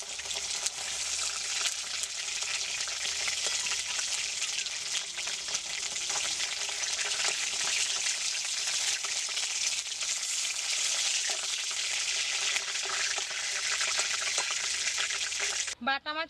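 Pieces of bata fish fry in a pan with a dense, loud, continuous sizzle and faint stirring, cut off by a few brief knocks and handling noises at the very end.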